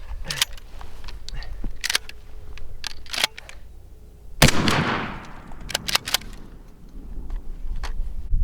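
A shotgun fires a 3-inch load of 7 shot TSS turkey ammunition outdoors, one loud sharp blast with a decaying echo near the middle, surrounded by clicks and handling noises and someone talking.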